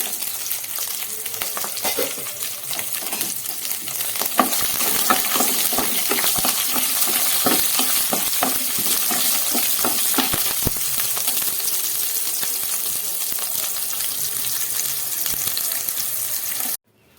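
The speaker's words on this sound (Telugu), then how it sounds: "ఇప్పుడు ఇందులోనే ధనియాలు జీలకర్ర చింతపండు వెల్లుల్లి వేసి వేయించుకోండి" Coriander seeds, cumin, tamarind and garlic fry in a pan with steady sizzling and crackling, punctuated by repeated stirring scrapes and clinks, close and continuous, ending abruptly.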